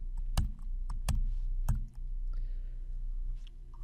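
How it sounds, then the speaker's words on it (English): Keys pressed on a computer keyboard during Windows 10 window shortcuts, the Windows key and arrow keys: a few sharp, close clicks spaced through the first two seconds, then quieter background. "to move a specific window to the right, press Windows key and then the right arrow on the keyboard"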